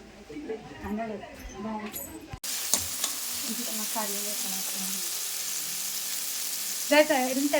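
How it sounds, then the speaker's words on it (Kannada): Tomato, onion and green chilli fry in oil in a pan. A steady, hissing sizzle runs with occasional stirring, and voices talk over and before it. "ಟೊಮೆಟೊ ನೀರುಳ್ಳಿ ಕಾಯಿ ಮೆಣಸು ಹಾಕಿ ಫ್ರೈ ಮಾಡಿ"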